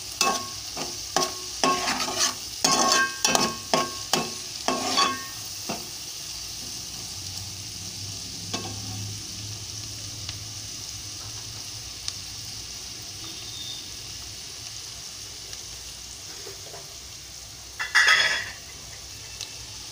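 A spoon stirs prawn curry with salt in a frying pan, giving several scraping, clattering strokes early on, then a soft steady sizzle with one more brief scrape near the end.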